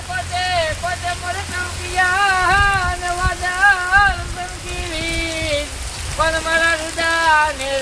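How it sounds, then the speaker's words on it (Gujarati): Heavy rain pours down in Rajavadar village of Mahuva taluka, a steady hiss of drops on surfaces running beneath a prominent, melodic voice singing or calling throughout. "આવો વરસાદ જામ્યો છે"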